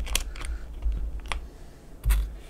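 Keystrokes on lubed and filmed Alpaca switches land as a few separate, deep, muted clacks, close and distinct over a low hum, with no talking.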